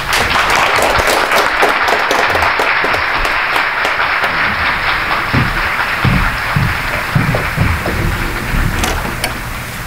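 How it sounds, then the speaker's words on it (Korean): A loud, dense round of applause fills a Korean press conference hall for a patriotic groups federation statement, sustained evenly throughout and tapering slightly at the end. "박수로 모시겠습니다."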